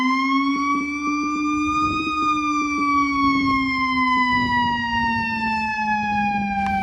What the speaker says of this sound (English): You'll hear a different tone on our siren.